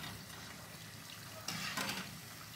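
Jackfruit gaarige fritters frying in oil at home, a soft continuous bubbling sizzle with a brief louder splash or stir near the middle, fairly quiet and without voices.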